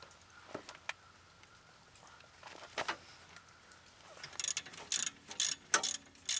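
Wrench work on the 22 mm lower shock absorber bolt of a BMW E34: scattered close metallic clicks and knocks, then a run of louder rapid ratcheting bursts toward the end.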